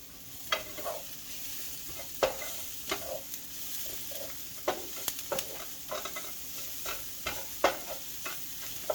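Onions and Coppa di Parma sizzle in a pan over lowered heat, a steady soft crackle broken by frequent sharp utensil scrapes and taps as the mix is stirred, close up with no talking.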